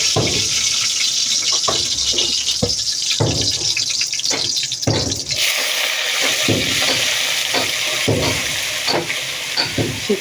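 Cabbage greens tossed into a hot pan, giving a loud continuous sizzling hiss with repeated stirring scrapes, close up and without talk.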